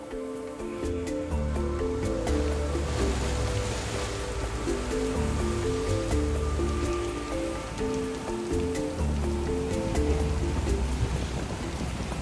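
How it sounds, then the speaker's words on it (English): Rain blows onto a sailboat at sea during a heavy squall, a steady close patter and hiss of drops on the deck and canopy that runs continuously under a layer of music with no talking. "Happy to close that up a little because it's still blowing rain in it."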